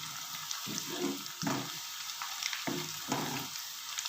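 Garlic, onion and ginger paste sizzles and crackles quietly in a hot pan, with a few bursts of louder frying as it is stirred.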